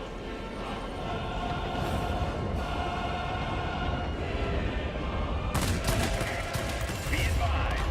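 Cannon fire from a MiG-15bis fighter in World of Warplanes, dense rattling bursts over a constant engine drone, with a louder burst near the end.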